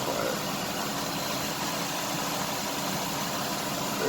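A 2005 Mazda Tribute under repair after a wreck idles steadily with a smooth, even, broadband engine hum and no change in pitch.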